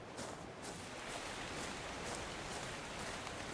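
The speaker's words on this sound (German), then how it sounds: "jetzt regnet es auch noch" Steady rain falls in the game ARK: Survival Evolved, a soft, even hiss of drops spread across the whole moment with no breaks and no voices.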